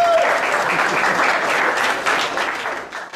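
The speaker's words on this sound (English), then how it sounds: "give a round of applause for Jason from Targa Trophy" An audience applauds Jason of the Targa Trophy road rally at a Lamborghini Miami event: steady, dense clapping from a crowd, loud and continuous before tapering at the end.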